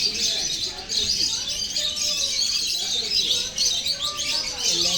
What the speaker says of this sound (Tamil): லவ் பேர்ட்ஸ் எல்லாம் இருக்குது. ஃபுல்லு லவ் பேர்ட்ஸ் பாருங்கள்.